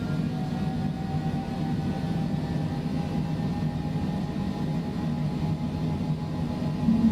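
Steady, droning airplane engine noise from Microsoft Flight Simulator 2020, a constant low hum with a faint whine, continuous and unchanging throughout, with no speech.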